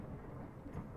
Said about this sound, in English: You said two, and then there came thunder.